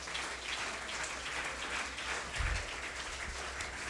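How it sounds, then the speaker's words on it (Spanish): A church congregation applauds, a soft, steady patter of many hands held at a low, even level throughout, with no voices standing out. "Alguien le puede dar un aplauso al Señor"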